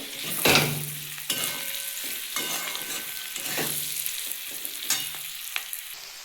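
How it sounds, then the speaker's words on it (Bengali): Mustard oil heating in a pan for a Bihari-style large green chili pickle, a steady frying sizzle broken by several sharp scraping stirs of a utensil against the pan, close and fairly loud with no voices. "এবার একটু সর্ষের তেল এখন দিলাম দিয়ে ভালো করে একটু ফোটাবো"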